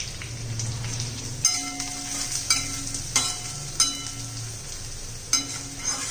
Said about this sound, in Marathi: आता मसाला घालून घेऊया छान असं परतून घ्यायचं आहे आपल्याला